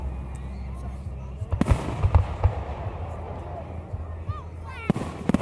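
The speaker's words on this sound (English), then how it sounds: "it's nighttime and we're going to see some fireworks" Fireworks explode at night: several sharp bangs at irregular intervals, with whistling streaks rising between them over a constant background rumble.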